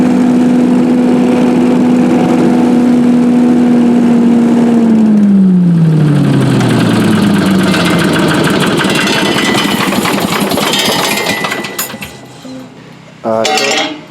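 A BMW Z3 engine with a suspected faulty fuel pump runs with a steady drone, then loses revs and winds down until it quits, leaving clatter and a few metallic clinks at the end.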